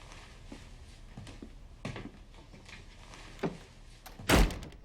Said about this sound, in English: Door slamming is the sound bridge that connects the scenes.